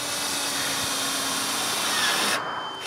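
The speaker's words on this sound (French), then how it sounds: "c'est aussi simple que de la glisser dans la bordure du rebord et de la visser en place" Power drill driving screws into roof trim on a backyard woodshed for firewood, a loud steady whirring drive close up that runs for about two seconds before cutting off abruptly.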